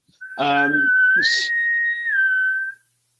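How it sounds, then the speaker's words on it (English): A bosun's call, the naval pipe, gives one steady, shrill, loud note of about two and a half seconds that rises briefly in pitch midway, with a short burst of voices at its start. "A bosun's whistle. A bosun's call, as commonly known today."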